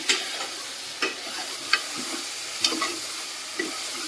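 Brinjal pieces dusted with turmeric powder sizzle steadily in hot oil, with a spoon stirring and scraping the pan in occasional soft knocks over the continuous frying hiss; no one speaks.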